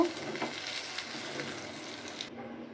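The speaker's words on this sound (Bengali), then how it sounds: "ভালো করে ভেজে নিতে হবে" Ash gourd slices sizzle and spit in hot oil in a pan, a steady close frying hiss with no talk, cut off abruptly near the end.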